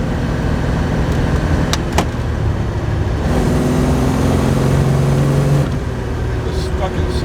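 Turbo slant-six Dodge Dart engine stuck in second gear, revving steadily under load with a sustained mid-range drone and a rising then falling pitch, with talk over it.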